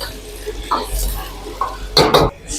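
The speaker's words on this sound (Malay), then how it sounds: "Kita tumis dulu sekejap guys." Beef stir-fries in hot oil in a pan for nasi goreng, with short sizzling bursts, utensil scrapes and clanks of a spatula, and a brief cough-like sound near the end; someone talks over it.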